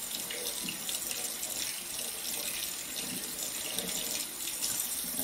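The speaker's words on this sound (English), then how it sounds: "I'm just gonna rinse, shake those around a little bit and rinse them off." Running tap water pours steadily over berries being rinsed and shaken in a netted dishcloth at a kitchen sink, a continuous close splashing hiss with no talk.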